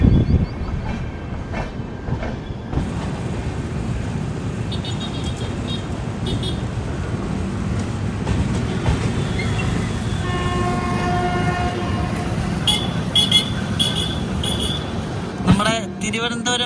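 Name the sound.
Thiruvananthapuram–Veraval Express train running, horn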